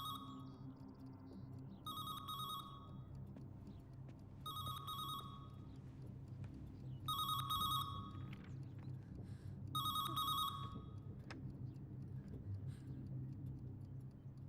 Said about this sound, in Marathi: मला इन्स्पेक्टरचा फोन येतो.